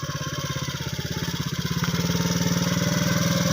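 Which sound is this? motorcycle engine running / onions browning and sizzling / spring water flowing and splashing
motorcycle engine running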